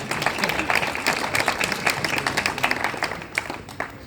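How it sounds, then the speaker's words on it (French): A crowd applauding steadily at a mayor's New Year ceremony in Rungis, many hands clapping at once with a dense, even patter that tapers slightly near the end. "Vous pouvez applaudir"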